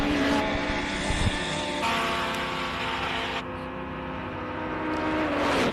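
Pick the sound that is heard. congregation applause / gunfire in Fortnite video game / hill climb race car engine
hill climb race car engine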